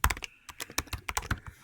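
Quick irregular clatter of computer keyboard keys during a synth-building workshop, a string of sharp close clicks in short bursts with brief pauses, fairly quiet and with no talking over it.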